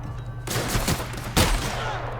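Gunfire from the video game The Outer Worlds: a loud, dense burst of rapid shots, a brief lull, then a second sharp volley close up.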